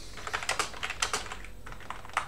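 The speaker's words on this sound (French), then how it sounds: "On va tester le clavier." Rapid typing on a computer keyboard running GhostBSD 11.1, close and crisp key clicks in quick irregular bursts with brief pauses, no talking.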